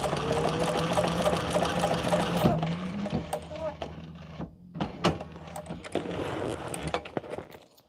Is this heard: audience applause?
no